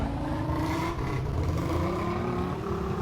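A Royal Enfield Bullet motorcycle engine in a bike video game drones in a steady, continuous idle-to-cruise hum with a rich low rumble, holding nearly constant throughout with no voices.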